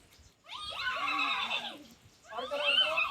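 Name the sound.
children imitating a horse neigh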